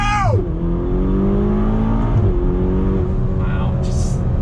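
Ferrari GTC4 Lusso T engine pulling hard under throttle, a loud, close, rising roar that climbs steadily through gear changes with brief dips, and a voice exclaiming over it.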